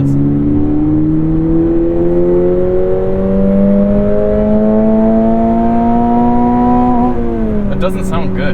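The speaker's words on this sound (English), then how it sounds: "It revs pretty high." A 2022 Toyota GR86 boxer engine with synthetic sound piped into the cabin revs in one long, steady climb for about seven seconds, then drops back. The tone is loud, close and whirring, and talk may run faintly underneath.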